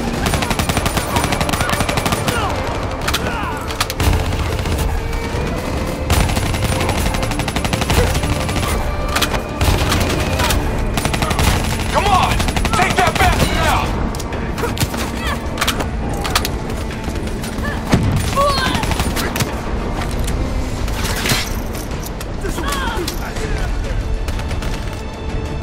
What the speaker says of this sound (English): Hit him with the swarm launcher!